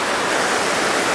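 Water from the Lodh Waterfall stream in Jharkhand rushes in a dense, continuous roar, steady and close throughout the short stretch with no voices.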